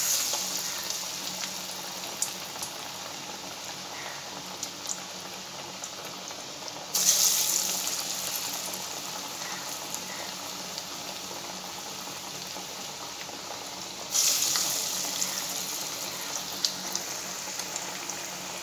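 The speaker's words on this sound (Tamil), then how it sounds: "இப்போ எண்ணெயில் போட்டுக்கலாம்." Vada batter dropped into hot oil frying steadily with a continuous bubbling hiss at moderate level, swelling briefly louder twice as more pieces go in, with no talking.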